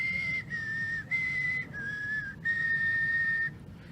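A person whistling steady high tones in five sustained phrases separated by short gaps, alone and close up, aimed at an electronics project's LED circuit.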